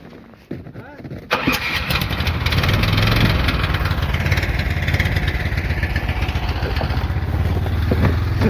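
A vehicle engine cranks and catches after about a second, then settles into a loud, steady idle with a throaty rumble, close up at a lakeside fishing trip in Siberia, with people talking over it.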